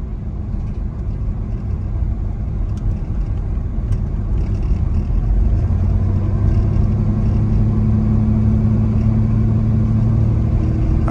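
A 1989 Chevy S-10 pickup with a 460 transmission drives along, its engine a steady loud interior hum and road rumble that rises in pitch partway through, with no talk.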